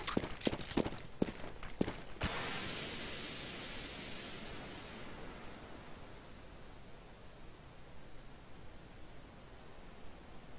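Smoke grenade deployed in Counter-Strike: a few sharp clicks and taps, then a burst into a long, steady hissing spray that slowly fades, fairly faint, with no talking over it.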